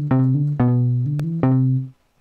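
External MIDI instrument played through an audio track in Reason 7, giving a short run of sustained synth notes that step between pitches with clear attacks, clean and close, then stopping.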